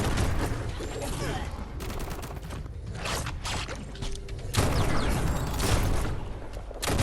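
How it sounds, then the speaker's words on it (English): Gunfire from the action game Biomutant aimed at the floor, dense and muffled bursts mixed with mechanical clatter and game effects, with a voice talking faintly underneath. "I was shooting the floor."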